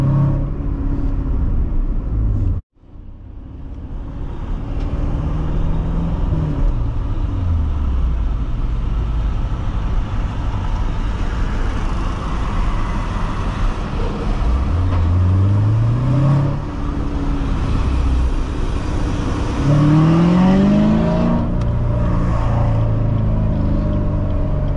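Engine of a 2016 Chevrolet Corvette Stingray with seven-speed manual gearbox while driving, a loud steady rumble heard from inside the cabin, rising with revs through several gear changes.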